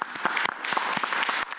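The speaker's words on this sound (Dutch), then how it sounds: "we gaan gewoon even een applaus geven hiervoor" Brief burst of audience clapping at a Dutch harvest festival gathering, irregular hand claps close and lively, alone without talk.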